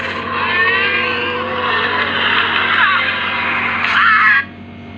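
A shrill, roaring scream from a cartoon dinosaur villain in a bird city game rings out loudly and continuously for about four seconds, swelling near the end before cutting off abruptly.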